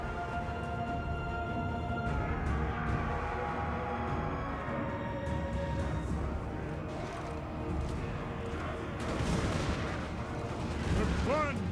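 Dwarf troops of Clan Angrund firing guns in a Total War battle: a dense, continuous crackle of volleys and booming shots layered over loud battlefield din, steady throughout with a brighter burst of fire near the end.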